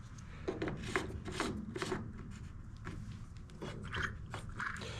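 Hand tool scraping and picking hardened JB Weld epoxy off the end of a Weedeater Featherlight leaf blower part, a series of close, rasping scrapes in short irregular strokes, with no talking.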